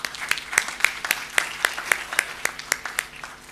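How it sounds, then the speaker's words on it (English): A small group claps after conference speakers at an academic event held over Zoom, with sparse, distinct individual claps repeating about every quarter second and no talking. "please join me to giving them another round of applause"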